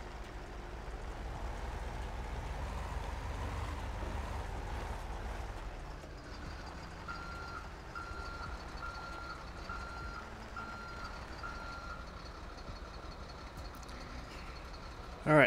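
A heavy wrecker truck in GTA V reverses, its steady engine drone underneath a string of regular, evenly paced backup beeps that starts partway through and continues at a moderate level.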